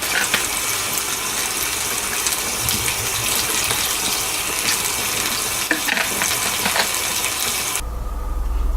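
Warm water gushes steadily from a tap to soak microfiber cleaning cloths with hydrogen peroxide, a loud, continuous splashing rush that cuts off abruptly near the end.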